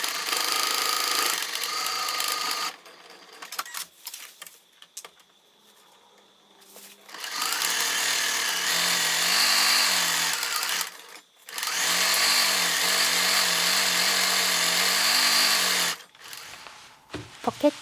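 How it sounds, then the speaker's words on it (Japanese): A sewing machine stitching the side seams of an adult garment, its motor whirring in three long, steady runs separated by short pauses, close and fairly loud. "ポケット口を開けて脇を縫おう"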